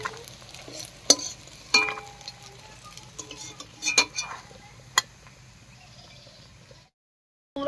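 Pumpkin leaf fritters in hot oil give a soft, steady sizzle, broken by a few sharp metal clinks and scrapes of a utensil against the pan before the sound cuts to silence.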